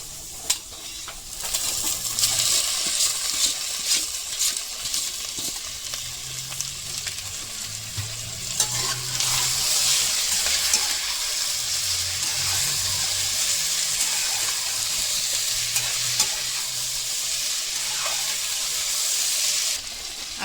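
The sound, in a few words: stirring and frying taro stolons with potato in pan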